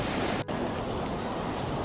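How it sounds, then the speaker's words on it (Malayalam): Surf washes onto a beach in Bali, a continuous broad rush of waves with wind noise across the microphone and a brief dip partway through. "നല്ല മനോഹരമായൊരു ബീച്ചാണ് ഇപ്പം ഞങ്ങൾക്ക് പരിചയപ്പെടുത്തുന്നത്."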